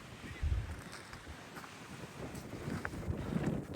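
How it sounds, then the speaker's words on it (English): Strong wind gusts buffet the microphone on an exposed coastal road in northern Scotland near Keiss, a steady low rumbling roar with bursts of louder blowing. "It's brave in this wind."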